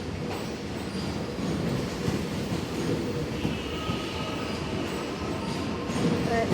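A Siemens train rumbles through Flinders Street station, a steady broadband roll with faint wheel squeal and a metallic whine rising midway, heard from the platform at moderate distance.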